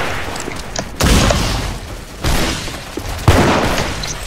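Rocket launcher in the Roblox game Typical Colors 2 firing and exploding, with three heavy booming blasts about a second apart, each fading into a rumbling noise tail.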